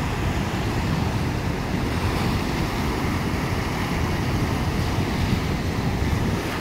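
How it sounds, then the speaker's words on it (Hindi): A hilsa fishing boat slaps and churns through river waves with steady, loud broadband wash and wind noise throughout, no voices over it. "ये बोट कैसे मार रहा है पानी"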